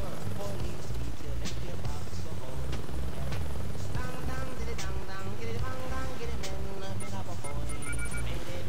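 Helicopter in the video game Saints Row 2, a loud, dense rotor clatter and engine roar mixed with busy game sound effects throughout.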